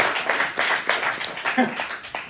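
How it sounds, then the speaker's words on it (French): A small comedy-club audience claps in scattered, uneven bursts, moderate and nearby, with a voice talking over the applause. "vous pouvez applaudir"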